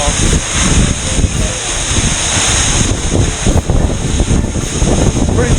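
A waterfall in Guanacaste, Costa Rica roars close by as a steady, loud broadband rush, with gusts of wind buffeting the microphone throughout and no clear voices.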